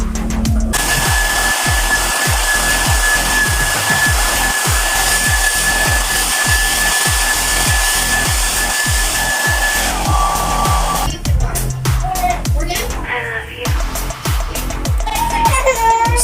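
A Gaabor hair dryer blows in a loud, steady rush for about ten seconds, then shifts setting and sputters with handling noises near the end.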